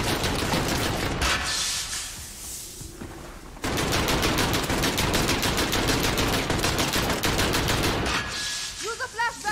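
Rapid automatic gunfire from the Call of Duty Modern Warfare campaign: dense bursts of machine-gun fire, a short lull near the middle, then sustained loud volleys, with the firing tailing off at the end.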